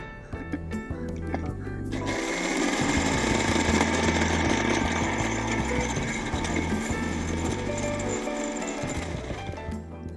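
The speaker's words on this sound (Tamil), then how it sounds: "இதை அப்படியே மிக்சியில் போட்டு நல்லா பிளெண்ட் பண்ணிடலாம்" Mixer grinder blending a bread milkshake with honey and condensed milk, a loud continuous motor whir and churn running for about eight seconds after a brief quieter start, with faint background talk.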